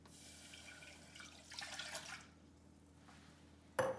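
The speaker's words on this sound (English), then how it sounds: "In order to make the sugar syrup, you need to add the water," Water is poured into a pan to start a sugar syrup for blueberry semolina halwa, a soft running pour rising briefly then tapering off, ending with a sharp clink of the pan, close and without talking.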